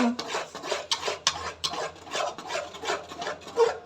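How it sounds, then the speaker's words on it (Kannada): Banana halwa with sugar being stirred in a pan, a rhythmic series of close scraping and rubbing strokes from a utensil against the pan, roughly three per second, loud and unaccompanied by speech. "ಸಕ್ಕರೆ ಹಾಕಿಬಿಟ್ಟು ಇವಾಗ ಇದನ್ನು ನೀಟಾಗಿ ಮಿಕ್ಸ್ ಮಾಡ್ಕೊಳ್ಳೋಣ"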